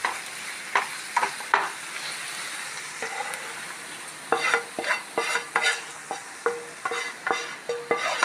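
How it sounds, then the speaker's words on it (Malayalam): A spoon scrapes rhythmically in a pan as chilli powder is stirred into grated coconut for coconut chutney, with a faint sizzle underneath and regular close scraping strokes that quicken toward the end. "കുറച്ച് മുളക് പൊടി, നമ്മൾ നേരത്തെ ആക്കി വെച്ച നാളികേരത്തിലിടണം."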